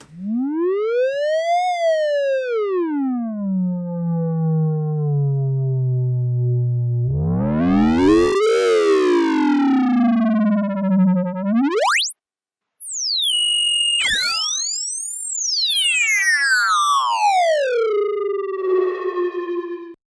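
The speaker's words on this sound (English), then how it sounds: "let's go ahead and go to odd harmonics here" A Baby Audio BA-1 synthesizer tone with rich buzzy odd harmonics sweeps up and down in pitch, gliding like a siren, with one brief cutout partway through.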